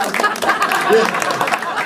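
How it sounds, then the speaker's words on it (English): Audience applause at a stand-up comedy show: a dense, steady wash of clapping and crowd noise from a room full of people, loud and continuous throughout. "I've got an applause on that"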